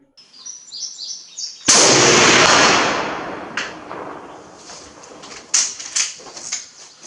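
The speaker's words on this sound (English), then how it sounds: "let's shoot 2 at this one." Russian Mosin M91/30 PU sniper rifle with a 3.5 power scope fires once outdoors, a loud sharp crack with a long rolling echo, followed by faint birdsong and scattered light knocks rather than a clear second shot.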